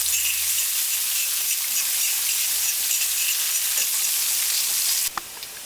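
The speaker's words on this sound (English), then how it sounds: "Just gonna saute the onion." Onion sautéing in a pan, a dense, steady hiss of frying that cuts off abruptly near the end, followed by a couple of faint clinks.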